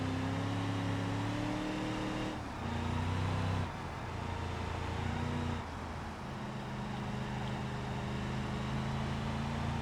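A car engine in a video game flood escape map runs steadily and fairly loud, its drone shifting pitch as the vehicle speeds up and eases off, alone with no talk.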